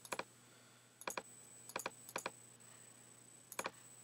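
Several separate computer keyboard key presses, each a crisp double click, coming in irregular bursts against a quiet background.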